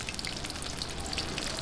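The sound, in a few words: chilli cheese lumpia frying in oil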